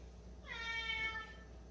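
A single drawn-out cat meow rises and falls, fairly close but soft, against a low steady background hum, with no talking.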